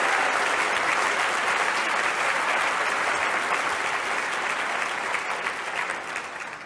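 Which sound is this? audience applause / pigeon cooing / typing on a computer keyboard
audience applause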